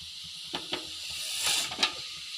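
Brinjal pieces sizzle steadily in a pan while a utensil stirs them, with a few sharp scrapes and clatters rising above the constant close frying hiss.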